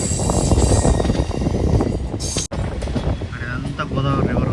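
A passenger train hauled by a red WAP4 electric locomotive rolls onto a bridge over the Godavari river, a steady loud rumble mixed with heavy wind buffeting the microphone, briefly cut and resuming with faint squeals.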